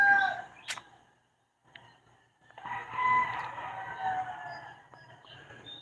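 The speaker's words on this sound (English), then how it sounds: "Neil Michaels, the West Ham news might reach you when the Roosters quieten down" Several roosters crow during an early morning outdoors, long rising calls repeating across the scene and fairly close, with a brief quiet gap between bursts and soft background hum.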